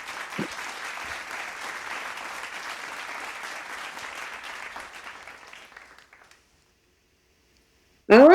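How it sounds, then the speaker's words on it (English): A studio audience claps steadily for several seconds before the applause fades to silence, followed by an abrupt loud burst of sound at the very end. "Round of applause for her."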